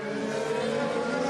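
Formula 1 car in the racing game F1 2016, its engine holding a steady, loud, high-pitched drone as it accelerates out of a corner, close and continuous with no talk over it.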